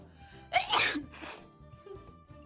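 A sneeze from an Umamusume video game character: a short intake followed by two sharp, bright sneeze bursts over quiet game background music.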